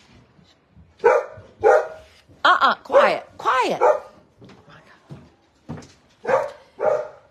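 A dog barks in short bursts, several sharp barks spaced out over a few seconds, with someone speaking briefly between them.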